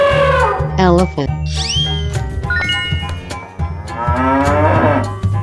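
A cartoon cow in a 3D animal video game lets out several loud, drawn-out moos in quick succession, layered over a steady low game soundtrack.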